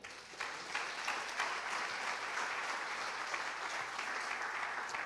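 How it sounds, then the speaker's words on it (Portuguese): A church congregation applauds together, a dense, steady clapping from many hands that fills the room for several seconds without a break. "Aplauda o Senhor."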